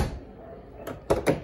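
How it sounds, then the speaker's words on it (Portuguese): A Peugeot 106 car door closes with a solid, close thunk, followed by a couple of quick follow-up knocks after a quiet start. "Olha essa porta como é que fecha."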